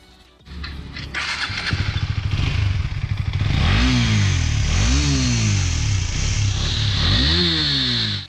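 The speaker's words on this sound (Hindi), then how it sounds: "तो पहले आप लोगों को थोड़ा स्टॉक एग्जॉस्ट का साउंड सुना देता हूँ।" A KTM Duke 250 BS6 motorcycle with its stock exhaust starts up and idles, then revs repeatedly in several rising and falling throttle blips, loud and close with no talking.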